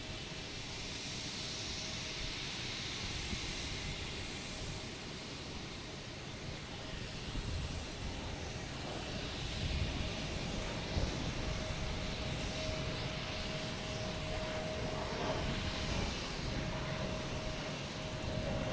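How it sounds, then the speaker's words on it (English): Airplane landing at Logan Airport: a steady, fairly faint jet engine roar with a thin whine, mixed into broad outdoor wind rumble, slowly swelling over several seconds with no speech. "Must be a plane landing"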